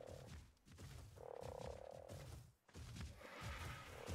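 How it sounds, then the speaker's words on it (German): Frogs croak in a game of Ark: Survival Evolved, a steady chorus of repeated throaty croaks at moderate distance, some calls swelling louder and overlapping, with no talking. "nach den Fröschen wollte ich schauen. Die stehen da draußen."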